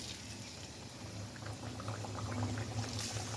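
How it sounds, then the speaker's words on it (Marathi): Kombdi vade (Malvani chicken-curry puris) of dough dropped into hot frying oil, a steady bubbling hiss that swells a little toward the end, close and continuous with no talk. "तेलामध्ये जेवढे मावतील तेवढे सोडायचे."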